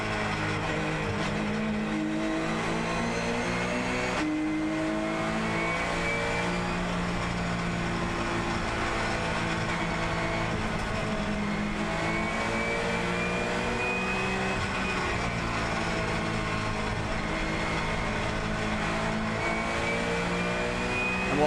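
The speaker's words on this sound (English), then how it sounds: "Let's just have a listen to the Porsche as it dices with the Nissan GTR across the top of Mount Panorama." Porsche race car battling a Nissan GTR across the top of Mount Panorama at Bathurst during the 12 Hour race, engines roaring loud and continuous with shifting revs and gear changes throughout.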